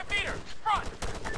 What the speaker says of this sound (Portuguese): Você tá atirando na placa.